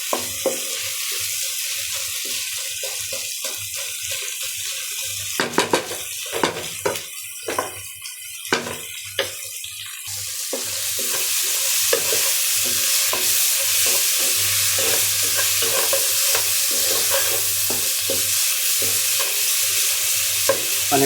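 Garlic and onion frying in oil in a pan for a leafy greens curry, a steady close sizzle with intermittent stirring scrapes that thickens into a louder continuous hiss in the second half.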